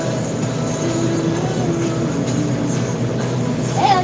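A tractor drives through a hay field, its steady low engine rumble and drone filling the cab as a close, continuous sound, with no talk over it.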